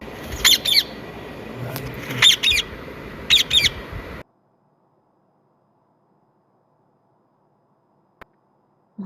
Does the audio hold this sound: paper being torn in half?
no